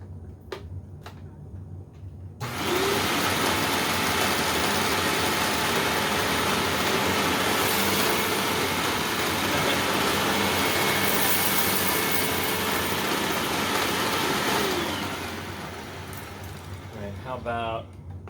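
A purple Hoover Windtunnel self-propelled upright vacuum, its brush-roll belts worn and in need of replacement, switches on with a loud steady whine and rush, runs for about twelve seconds, then winds down; a few clicks come before and after.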